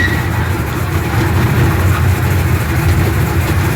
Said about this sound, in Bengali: রংধনু পার্কে ট্রেন ট্রেন ছুটে চলছে